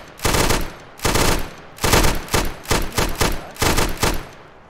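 Hunting shotgun gunfire in ArmA 3, loud close blasts in several bursts of rapid repeated shots separated by short gaps, with no talk over them.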